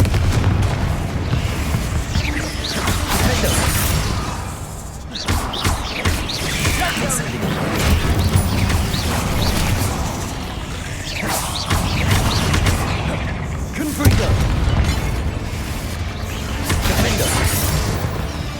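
Fiery Confringo spell blasts in the Hogwarts Legacy video game, a run of loud booming explosions and crashes repeating across the stretch, with a voice talking over them.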